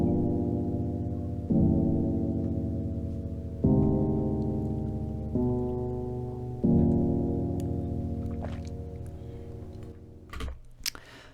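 Jazzy, chromatic chord progression played on a detuned, honky-tonk piano sample built from a field recording, with five sustained chords struck one after another, loud and alone, followed by a brief faint rustle at the end.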